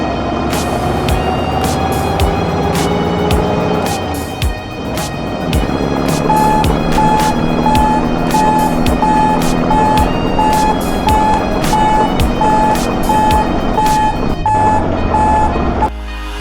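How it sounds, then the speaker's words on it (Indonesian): An underground mining truck, smaller than a standard haul truck, rumbles steadily while its reversing alarm sounds a regular series of loud, evenly spaced beeps throughout. "Underground mining truck ukurannya lebih kecil dibanding truk"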